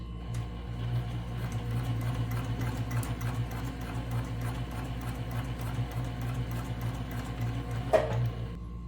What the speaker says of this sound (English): So I'm here at the sewing machine, and then we're gonna start to top stitch.